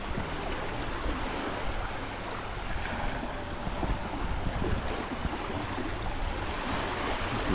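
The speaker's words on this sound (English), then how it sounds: "At the beach." Ocean surf rolling onto a beach near Mayagüez at Playa Tres Tubos, a steady broadband wash of breaking waves with wind buffeting the microphone throughout, close and continuous with no voices.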